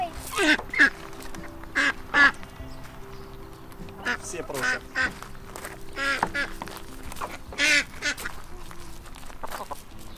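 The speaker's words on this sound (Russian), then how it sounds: "Ой, какая утка." A duck quacking repeatedly at an animal park, with short nasal quacks scattered throughout over a steady background hum, alongside people talking nearby.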